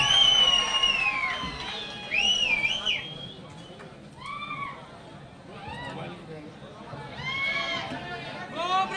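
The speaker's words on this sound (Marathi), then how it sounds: "एकदा हात वरती, जोरदार टाळी आदरणीय एकनाथजी शिंदे साहेबांसाठी." A crowd at a Shiv Sena political rally in Maharashtra cheers and whistles, with repeated rising and falling whistles cutting above a steady, fairly loud roar of voices throughout.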